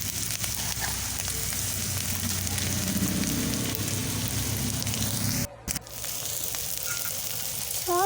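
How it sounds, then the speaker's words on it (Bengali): Ginger, garlic and tomato sizzle in hot oil in a pan while being sautéed for a fish curry, giving a steady, crackling fry throughout with a brief dip near the end. "আদা, রসুন, টমেটো একসাথে দিয়ে ভালো করে কষবো।"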